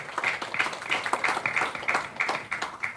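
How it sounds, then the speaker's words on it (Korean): An audience at a book concert in Busan claps to welcome a KBS drama director. Steady, even applause runs the whole time at moderate volume, with no voices over it. "강성무 감독님, 여러분 박수로 환영해 주시기 바랍니다"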